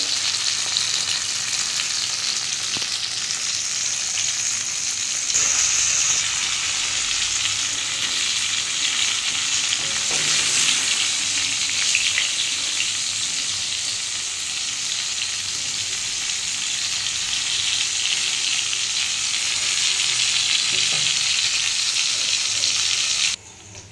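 Ripe pointed gourd, okra and potato fry in a pan with a loud, continuous hissing sizzle that holds steady for a long stretch, close up, with occasional faint stirring scrapes and no speech.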